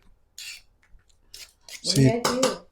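A vegetable is peeled or shaved close by in a few short, rasping scrape strokes separated by brief pauses, with the last strokes the loudest.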